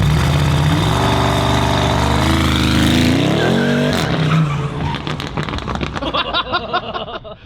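A Bentley's engine exhaust roars loud and close with a choppy, boat-like burble, revving hard then dropping into a rough, uneven lumpy idle, with no talk over it.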